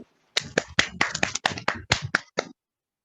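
A burst of about ten sharp, evenly paced hand claps from graduates in an online meeting, close and clear with no voices, ending abruptly.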